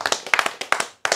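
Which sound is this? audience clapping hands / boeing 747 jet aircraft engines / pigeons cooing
audience clapping hands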